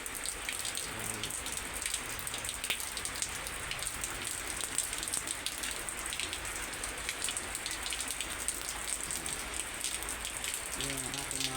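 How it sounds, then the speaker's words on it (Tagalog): Rain falls steadily outdoors onto plants and surrounding surfaces, an even, close hiss of drops lasting the whole stretch, with a brief faint voice-like sound near the end. "Ito yung ulan dito sa atin."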